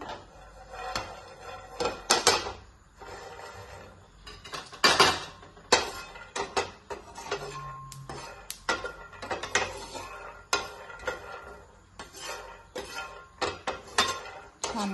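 Roasted peanuts handled in a hot pan on a gas stove, with irregular metallic clinks and scrapes of utensil against pan, some sharp and close, spread across the stretch with no talking.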